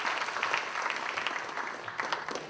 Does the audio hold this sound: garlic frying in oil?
no